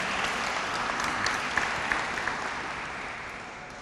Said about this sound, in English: if we could just give the supervisors a round of applause